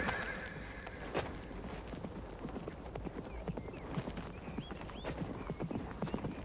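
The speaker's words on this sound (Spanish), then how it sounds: "Un caballo." Horse hooves clop irregularly on hard ground under a steady hiss of outdoor ambience, with faint whinny-like calls near the end, in a Western setting.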